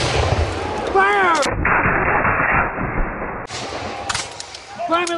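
Reenactors fire loud, ragged musket volleys across an open field in an American Revolution battle, with broad booming blasts and rolling echoes under shouted commands.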